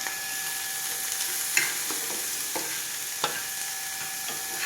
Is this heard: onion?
yes